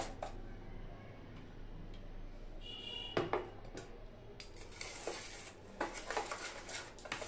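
Semolina being mixed with milk in a bowl for Bengali carrot bhapa pitha, heard as faint, irregular spoon scrapes and clinks against the bowl over a quiet room hum, with a few sharper knocks toward the end.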